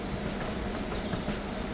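Diesel railcar train running along railway tracks, a steady rumbling roll with faint rhythmic track noise throughout, close and continuous, with no voices.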